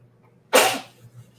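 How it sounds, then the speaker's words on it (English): A single loud, close sneeze from a person with allergies bursts out and tapers away, followed by faint breathy shuffling and no talk. "I'm sneezing."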